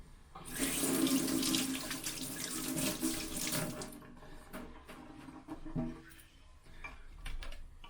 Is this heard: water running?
yes